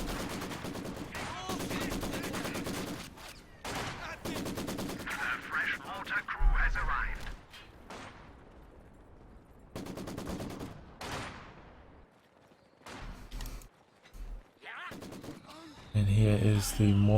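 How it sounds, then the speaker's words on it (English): Machine gun fire and other gunfire from a garrisoned position in the Company of Heroes 2 strategy game, sounding as repeated loud bursts and shots broken by short gaps, with a commentator talking over much of it. "Getting caught by a machine gun in the garrison overlooking it."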